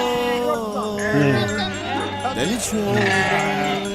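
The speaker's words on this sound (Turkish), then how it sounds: "Kaç tane koyun var?" A flock of sheep, around 170 head with a shepherd, bleating loudly and overlapping close by, with people talking over the animals.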